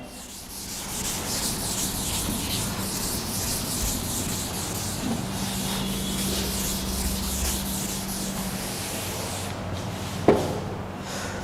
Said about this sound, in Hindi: रब करते हैं इसको।